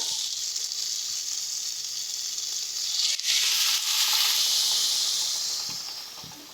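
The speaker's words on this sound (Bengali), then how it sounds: "এইবারে দিয়ে দেব পরিমাণ মতন জল" Water poured into a sizzling pan of pumpkin and shrimp curry sets off a loud, steady hiss that surges into a burst of steam midway, then slowly fades. The sound is close, with no voices.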